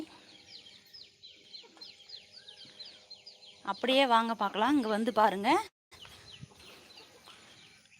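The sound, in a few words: country chickens clucking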